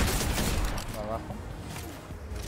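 Rapid gunfire from a Fortnite match, a dense crackling burst at the start that thins out, heard under someone speaking Spanish.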